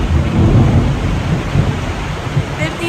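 Thunderstorm on a flower farm, steady heavy rain with low rumbling thunder rolling throughout, loud and close, enveloping the whole stretch.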